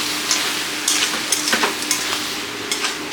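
Crab curry with country crab fries in a pan, a continuous loud sizzle with short scraping stirs every half second or so, close up and without any talking.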